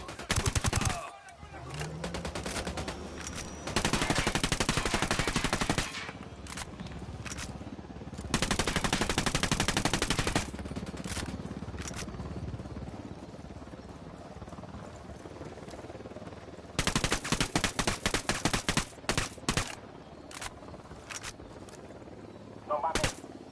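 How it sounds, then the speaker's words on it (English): Bursts of automatic gunfire from a Ghost Recon Wildlands firefight, loud volleys of a few seconds each separated by quieter stretches, with a voice talking over the action. "I'm shooting these fuckers."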